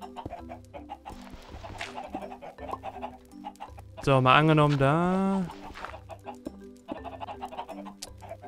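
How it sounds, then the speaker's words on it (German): A Minecraft chicken clucks in short repeated bursts, with one long loud squawk in the middle, over the game's blocky background sounds while someone talks in German. "da ist ein Huhn durchgebackt"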